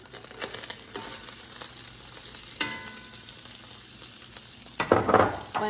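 Onion and jalapeno pepper sizzling as they sweat in a pan, a steady crackling fry with a few louder bursts of stirring and hissing near the end; no talking.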